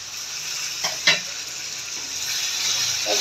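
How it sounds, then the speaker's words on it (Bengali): Chopped onion, green chili, a little sugar and prawn masala fry in hot oil, a steady close sizzle broken by a couple of spatula scrapes and knocks against the pan, with no voices. "একটু এই মশলাটা এই পেঁয়াজটাকে ভালো করে ভেজে নিলাম।"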